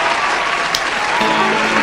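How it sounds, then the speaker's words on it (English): Steady applause from a crowd fills the whole moment, dense clapping at a constant level with a faint voice briefly surfacing near the end. "You deserve an applause."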